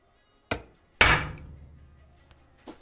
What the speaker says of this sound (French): sauf que là on va faire au marteau